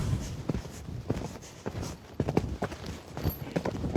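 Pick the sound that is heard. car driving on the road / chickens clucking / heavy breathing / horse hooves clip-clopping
horse hooves clip-clopping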